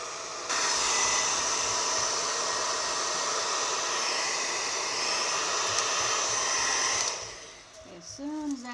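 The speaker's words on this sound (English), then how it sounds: "So to do that, just use a regular hot air dryer." A regular hot air dryer blows on a lotion bar base to soften it, a steady loud whooshing roar that runs for about seven seconds, then cuts off into quieter handling noises.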